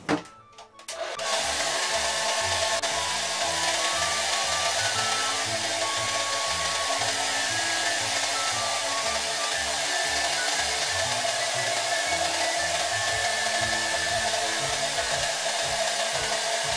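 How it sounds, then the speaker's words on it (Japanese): A hair dryer runs close and loud while drying freshly wetted hair, switching on in the first second and then blowing in a steady, continuous roar with no talking. "ドライヤーで髪を乾かしていきます。"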